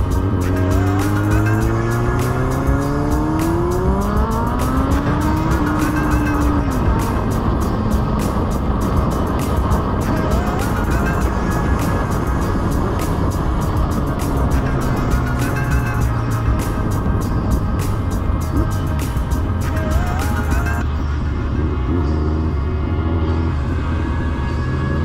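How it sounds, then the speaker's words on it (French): A motorcycle surges past slow-moving vehicles on a mountain road in the Pyrenees, engine revving and rising in pitch through several gear changes, with steady road and wind roar throughout. "Nous pourrons ainsi doubler tous ces véhicules qui roulent lentement."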